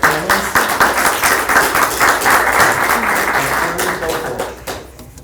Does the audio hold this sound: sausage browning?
no